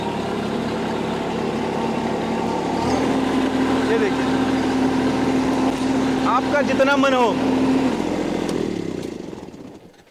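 A tractor engine drives a blower sprayer on a farm, running at a steady drone close by while someone talks over it and the noise fades out at the end.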